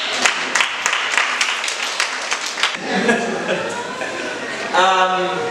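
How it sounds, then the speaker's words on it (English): Young volunteers at an induction event break into applause, a burst of crowd clapping with rhythmic claps standing out early, then fading into murmuring voices and talk. "you guys should just give yourselves 2 rounds of applause"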